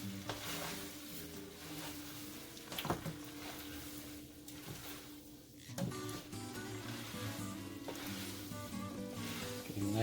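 Pancetta sizzles in a hot pan while a pasta carbonara is cooked in a kitchen. A steady, close crackle runs throughout over a soft tonal background, with a brief clatter partway through.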